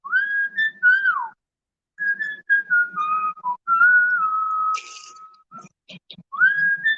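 A person whistles a clear, wavering melody in short phrases with pauses, accompanied by faint knocks and small rustling sounds.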